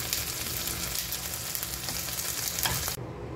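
Chicken roasts in a hot pan with a loud, continuous crackling sizzle and a few stirring scrapes, close by, before the sound cuts off abruptly near the end.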